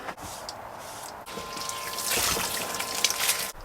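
A shower head pours water into a portable bathtub inside a cargo trailer camper conversion. The steady hiss starts soft, then swells into a fuller, close rushing splash that runs continuously until it cuts off at the end.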